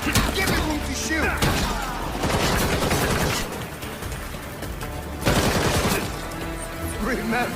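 Rapid gunfire bursts in the Gotham Knights video game, dense repeated shots with thuds and crashes under shouted voices, loud and close throughout.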